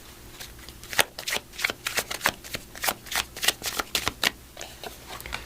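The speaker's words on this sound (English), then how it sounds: "Let's put the rest of our cards out on the table." Tarot cards are laid out one after another on a table, producing a string of close, crisp slaps and flicks at an uneven, fairly brisk pace.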